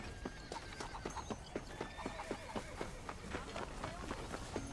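Horse hooves clip-clopping at a brisk, even pace in the video game Red Dead Redemption, a continuous rhythmic run of hoof strikes with an occasional whinny, heard at moderate, steady loudness.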